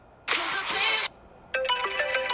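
A phone timer alarm tone rings in two bursts, a bright, busy chime of about three quarters of a second, a short pause, then a second patterned ringtone that keeps going to the end; moderately loud and close, with no talking.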